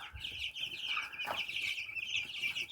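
Many young incubator-hatched chicks chirp continuously in a busy chorus of high, thin peeps, close by at moderate volume with a few soft clucks.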